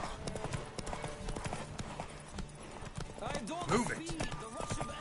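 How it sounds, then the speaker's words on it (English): Horse hooves gallop in The Witcher 3: Wild Hunt on PS5, a steady, fairly quiet clip-clop rhythm that runs under talk, which gets busier toward the end. "riding a horse."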